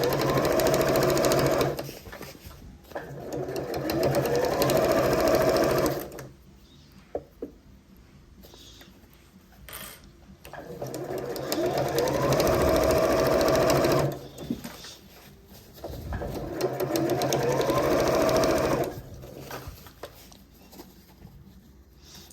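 Sewing machine stitching a side seam of a fabric holdall bag, running in long steady bursts with short pauses between them and faint handling sounds in the gaps.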